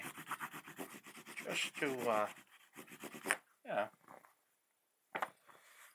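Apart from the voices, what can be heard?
burnishing tool rubbed on back of wooden rifle buttstock cover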